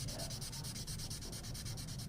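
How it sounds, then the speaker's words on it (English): Fresh aircraft paint being sanded with a well-worn sanding sponge, a steady, close, continuous abrasive rubbing with rhythmic strokes throughout and no talking. "And even by sanding now, we can create some kind of damage of the paint without even starting washing it."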